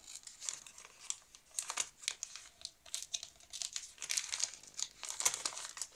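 Paper envelopes from an Advent calendar are torn open and handled, with close, continuous crinkling and ripping in irregular bursts, no talking.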